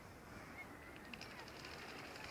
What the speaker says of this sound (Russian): Эта утка делает такие вот скребучие звуки.